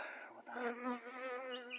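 Close, faint buzzing of Saskatraz honeybees, a wavering hum that rises and dips across a short moment, with no talking.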